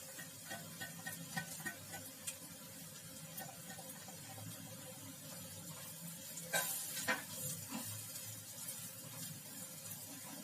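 Red-stemmed amaranth leaves stir-fried with spices in a pan, giving a steady sizzle broken by scraping stirs and a louder clatter near the middle, with no talking.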